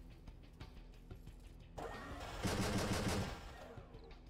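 Rapid bursts of turret gunfire in the video game Dustwind: faint repeated shots at first, then a louder, dense volley of automatic fire that tails off.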